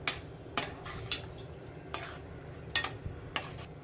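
Several sharp scraping clinks of a spoon against a pot while coconut milk is stirred into a curry, spaced irregularly over a low simmering background, with no talking.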